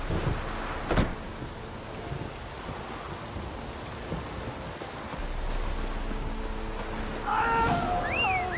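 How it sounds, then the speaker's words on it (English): Rain falls in The Witcher 3: Wild Hunt, a soft steady hiss with a distant rumble of thunder and a sharp crack near the start, plus brief tonal game effects toward the end. "Looks like rain."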